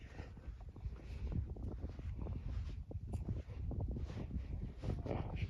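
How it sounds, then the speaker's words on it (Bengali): Wind blowing outdoors across open desert ground surrounded by green orchards, a continuous low buffeting rush with gusty microphone rumble throughout, fairly close and steady. "বাতাসটা ভালো সুন্দর বাতাস"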